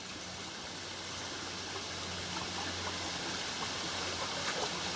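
Water pours steadily down a small cascade waterfall on a bush walking trail, a continuous broadband rush with no break, close by and fairly loud, with no voices over it.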